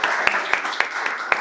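A small group claps for the participants, a light spattering applause with a few sharper, distinct claps standing out at regular intervals, fairly close and clear.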